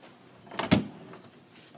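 An entry closet door in an apartment opening, a close rattling slide and thump followed by a lighter scrape and faint squeak, quiet and brief with no talking.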